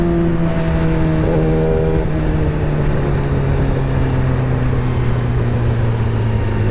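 A Yamaha R6 600cc sport bike's engine drones loud and steady close by, its pitch stepping down through smooth quick-shifter downshifts with no talking.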